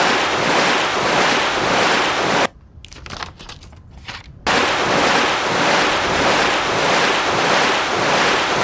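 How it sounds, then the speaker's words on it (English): Loud crashing ocean waves in the video game Rune Factory: Oceans, a dense roaring surf that cuts out briefly to quieter ambience in the middle before the roar returns, with no talking. "This crashing of waves is really obnoxious loud."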